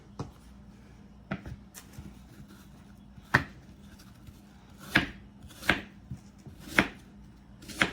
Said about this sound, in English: I sliced it fairly thin because I want to make sure the apples get done